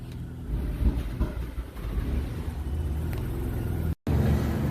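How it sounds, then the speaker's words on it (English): Rough-running engine of a 1994 Isuzu Rodeo held at half throttle, a steady low rumbling drone with uneven putting, close up and loud with no talk. "Holding a half throttle and it doesn't do nothing. It just putts, backfires."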